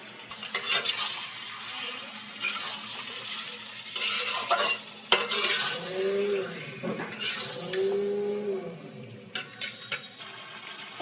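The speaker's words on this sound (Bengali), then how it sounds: "তখন 2 চামচ আদা রসুনের পেস্ট দিয়ে দেবেন। দিয়ে ভালো করে আরও 1 মিনিট কষিয়ে নেব।" Chicken stir-fried with ginger garlic paste sizzles steadily under repeated scraping and knocking of a spoon against the pan, with louder clanks midway and a couple of faint tonal squeaks; no speech.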